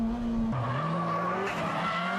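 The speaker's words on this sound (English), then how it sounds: "S15 fighting out of the corner with excess power" A Nissan S15 race car producing over 380 horsepower powers out of a corner at Fuji, its engine droning loud and steady with rising pitch as it shifts and accelerates, with some tyre noise mixed in.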